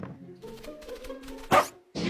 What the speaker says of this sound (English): Is that a puppy? I love puppies!